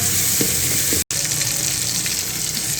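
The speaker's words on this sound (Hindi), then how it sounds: "मसाला अच्छे से भून के फिर इसमें पंजे अच्छे से भूनने ताकि इसमें कच्चापन ना रहे" Chicken feet frying in masala in a pan, a continuous close sizzle broken by one abrupt gap, with a few stirring knocks and no talking.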